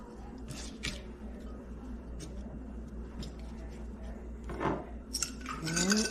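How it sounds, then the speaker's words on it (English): Fresh rosemary sprigs rinsed under running kitchen water, a steady close trickle and splash with a few dish clinks, growing louder and wetter toward the end. "let's rinse these off. Rosemary."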